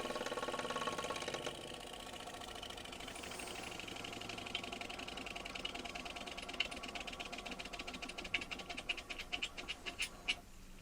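A vintage toy steam engine running down, a soft continuous hiss and hum with rhythmic chuffing beats that grow more distinct and slower toward the end, faint and close.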